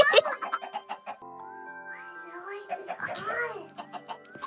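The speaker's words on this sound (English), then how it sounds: "I'm gonna have too many chickens at the end of this" Video game chickens cluck and squawk in quick bursts, loud and close, mixed with people talking and game sounds.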